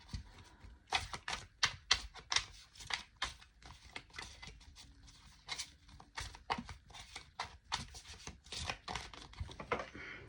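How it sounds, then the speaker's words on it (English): Rapid, dense flurry of crisp tarot card riffles and flicks, close and steady, with brief pauses between bursts of papery snapping. "let's shuffle and see what card we get today"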